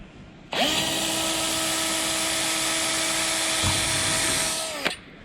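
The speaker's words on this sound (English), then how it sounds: "maintain 90 degree, a 90 degree angle between the drill and the plexiglass" A power drill boring through plexiglass for an aircraft canopy, a loud steady whine that starts suddenly, holds for about four seconds, then stops, with quiet room noise before and after.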